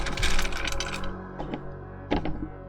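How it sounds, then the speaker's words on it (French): Small magnets rattle and clink inside a container, a burst of metallic jangling followed by two shorter shakes, close and clear with no talk. "Ah, des aimants. Je savais même pas qu'il m'en restait là-dedans."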